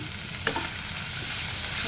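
Fried potatoes with turmeric just added in a pan give a close, steady sizzle, with a single spoon scrape partway through.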